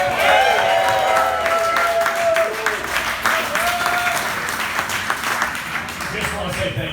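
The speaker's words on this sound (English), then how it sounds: "how about a big round of applause for Alex" Guests at the soft opening of a cigar shop and lounge applaud, a sustained crowd clapping that starts strong and gradually thins, with voices and whoops mixed in over the hands.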